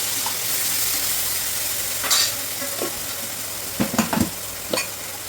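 Two chopped tomatoes go into a hot pan with spices for a mung bean curry, over a steady sizzle followed by a few sharp scraping stirs and clatters near the end.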